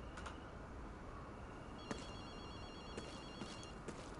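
A telephone rings in the Ghostwire Tokyo video game, a few faint, thin electronic trills spaced apart over a steady background hiss, with no talking.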